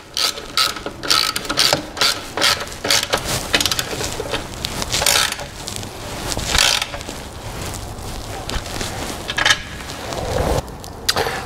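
Ratchet wrench with a 13 mm socket tightening a bracket on a BMW R1200RT motorcycle, a close, rapid series of clicking ratchet bursts in uneven strokes, with short pauses between them.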